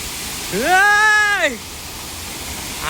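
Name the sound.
waterfall pouring at Salangor temple park, Malaysia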